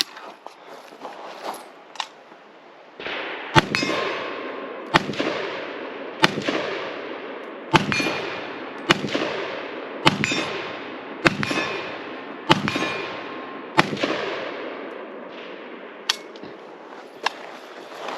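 A Kalashnikov USA KP-104 rifle fires its first magazine with about a dozen loud, sharp shots at a slow, fairly even pace, each crack ringing out briefly before the next, after a few quicker opening reports.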